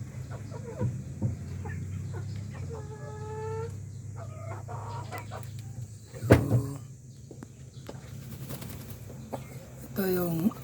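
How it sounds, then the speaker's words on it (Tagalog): Native chickens crossbred with Rhode Island Reds cluck and call around a farmyard, with soft scattered clucks over a steady low background hum and a brief louder squawk near the end. "Ito yung update natin sa mga crossbred natin mga ka-happy farming na native chicken, crossbred natin sa Rhode Island."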